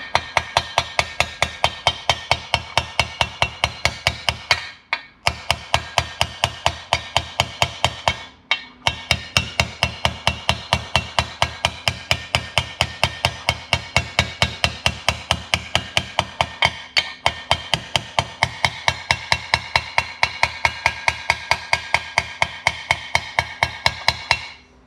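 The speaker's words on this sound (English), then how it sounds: "Now get a hammer and carefully punch on the outer ring." A hammer taps rapidly and steadily on a bearing's outer ring, driving it into a DRZ 400 engine crankcase. The sharp metallic strikes come close and loud in long runs with two brief pauses.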